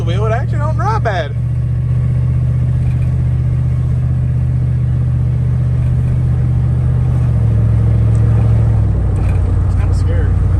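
A Chrysler 300 with a turbocharged LS engine swap drives loudly up close while the automatic transmission shifts through its gears, the engine drone holding steady and then dropping in pitch as it upshifts; a brief voice exclamation comes at the start.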